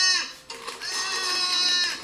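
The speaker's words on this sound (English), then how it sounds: "We're harassing this goat so hard." A goat in the video game Goat Simulator gives loud, wavering bleats, a short one followed by a longer drawn-out cry, close and clear.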